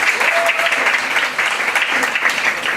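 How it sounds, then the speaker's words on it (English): Loud, dense audience applause at a Black journalists' media brunch, with continuous close clapping throughout the short stretch. "So let's give them a round of applause for that."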